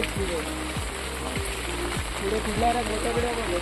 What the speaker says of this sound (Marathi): पावसाचा जोर आहे बघा पाऊस पडता चांगला